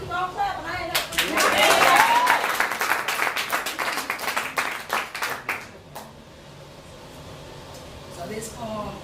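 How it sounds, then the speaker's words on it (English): Audience clapping at a poetry night, a burst of sharp, dense hand claps swelling in the first few seconds and then thinning out to scattered claps before fading, with voices heard in the background. "keep on clapping"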